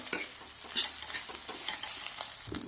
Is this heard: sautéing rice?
yes